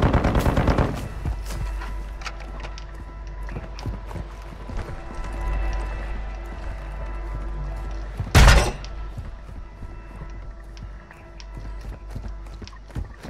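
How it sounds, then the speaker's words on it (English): Scattered gunshots crack in a game scene, one sharp loud blast standing out, over low rumbling ambience and occasional thuds. "I hear some gunfire."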